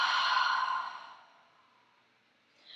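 A long, steady breath pushed out through the mouth during a yoga breathing exercise, loud and close at first, then fading away slowly, with a small soft sound at the very end.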